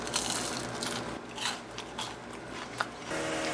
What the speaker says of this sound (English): Let's take a bite and see how crunchy they are.